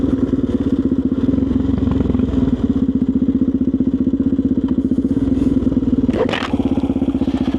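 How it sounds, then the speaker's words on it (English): Steady motorcycle engine drone at riding speed with a rapid pulsing rumble and faint clattering from the rear tire, one brief whooshing swell near the end. "I thought I was getting some noise out of my rear tire."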